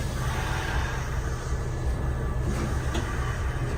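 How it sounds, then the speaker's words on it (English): Train wheels clacking over rail joints in a video game, a steady rumbling rhythm of clickety-clack running continuously and fairly close, with no voices. "the clickety-clack of the wheels and the rails"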